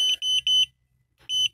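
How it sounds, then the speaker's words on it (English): Loud, close electronic beeps from an aftermarket external TPMS tyre pressure monitor alarm, a quick series of evenly spaced piercing tones, a short silent pause, then the beeping resumes. "So if you want to switch off the alarm,"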